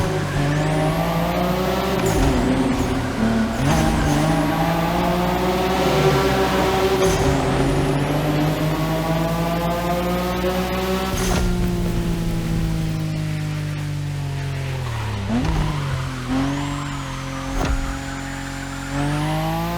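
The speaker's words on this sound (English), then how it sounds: "Don't you forget, it's all about drifting. Oversteer while maintaining control for a high exit speed." A car in The Crew Motorfest drifts with a loud engine and long, wavering tire squeals. The revs climb and fall while the car slides in sustained oversteer, and brief skid bursts break in near the end.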